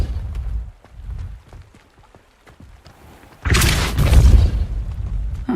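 A Depulso spell blast in Hogwarts Legacy bursts out as a sudden loud, booming whoosh that follows a stretch of quiet, faint clicks and rumbles, then rolls on for a couple of seconds.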